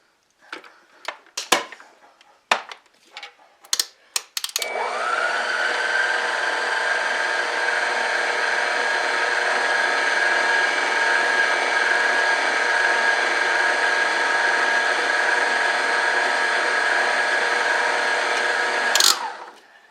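An electric mixer whirs steadily for about fifteen seconds, beating cherry kiss cookie dough, after a few short clanks and bumps; the motor hum stays loud and even before cutting off abruptly.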